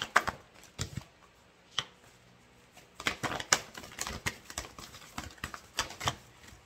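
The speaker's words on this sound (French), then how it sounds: "je vous apprendrai aussi à brasser les cartes comme je les brasse" Tarot cards being shuffled by hand, a series of crisp, sharp riffling clicks in uneven bursts, sparse at first and then denser and faster, close up with no talking.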